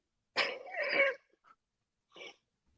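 Two close coughs: a harsh, throaty burst followed after a pause by a shorter, lighter one, with a faint breath between them in quiet surroundings.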